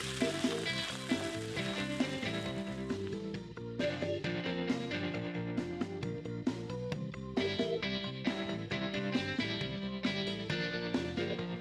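Mashed potatoes with cumin and turmeric fry in hot oil in a pan, giving a continuous close sizzle with bursts of crackle, heard under steady background music.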